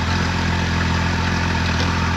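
A Jeep 4.0 engine with a couple of spark plugs pulled runs steadily and loudly up close, a rough, clattery mechanical drone holding a constant pitch throughout.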